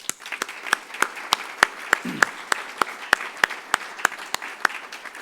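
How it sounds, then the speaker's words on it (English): Audience applause at a 2015 city address, heard as sparse, individual claps with distinct sharp spikes rather than a dense ovation, steady throughout. "I'd like to give him and his team a round of applause"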